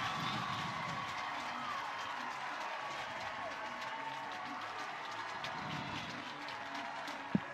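Softball stadium crowd at an NCAA super regional game cheering after a base hit in the sixth inning, a broad, distant roar of voices and clapping that holds steady throughout, with a commentator talking over it.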